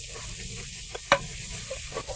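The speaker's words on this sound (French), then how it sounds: "Nous faisons sauter pendant 2 minutes." Onion and garlic sauté in olive oil in a pan, making a soft continuous sizzle with a single sharp click or tap near the middle and faint stirring scrapes.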